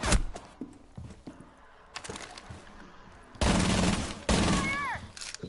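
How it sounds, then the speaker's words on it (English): Gunfire in Rainbow Six Siege: scattered shots, then two loud sustained bursts of rapid automatic fire near the end, with brief voices in between. "No, he's shooting at people!"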